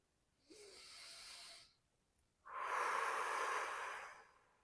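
Two audible breaths during a hatha yoga twist: a short airy intake, a pause, then a longer, fuller, hissing deep inhale close to the listener.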